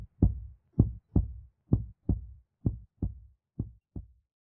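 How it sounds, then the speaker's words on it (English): Player character's heartbeat in a video game: about nine slow, deep, muffled thumps at a steady pace, close and alone with no talk. "Is that my heartbeat?"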